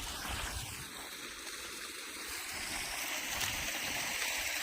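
Irrigation water rushes steadily and continuously through a field, a broad hissing flow that stays even throughout with no voices.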